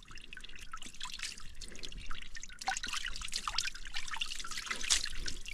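Water from a spring high on a hill in the dry caatinga scrub of the Seridó sertão drips and trickles steadily, with many small close splashes running continuously throughout.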